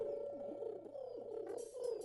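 Doves coo softly in a low, repeated warble that is close and fairly quiet, with a brief brighter rustle near the end and no voices.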